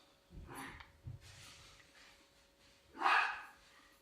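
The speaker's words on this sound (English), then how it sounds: "the dogs are going crazy" A few dog barks in Dark Souls 2 sound at a moderate distance, with a louder bark near the end over a low background hum.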